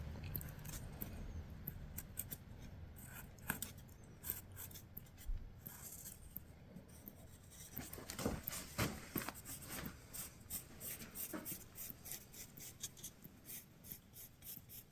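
A blade cuts a ceiling rose template behind the zinc with scattered quiet cutting and scraping sounds at close range, rising to denser, steadier scraping in the second half, with no talking.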